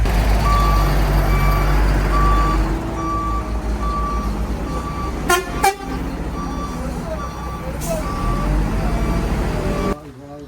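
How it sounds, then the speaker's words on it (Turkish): A truck backs up, its reversing alarm beeping in a steady, evenly spaced series over a low engine rumble, with brief clanks and faint voices in the background. "Bizim kamyon çağır gelsin. Geri geri kapının arkasına gelsin ki."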